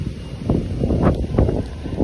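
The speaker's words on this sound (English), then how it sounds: "It's mad windy over here." Steady wind buffets the microphone in gusts, a low rumbling roar with no talking.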